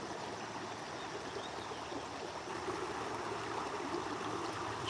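Brodhead Creek flowing outdoors, a continuous soft rushing and trickling of water over the streambed, faint and even with a slight swell toward the end, no talking.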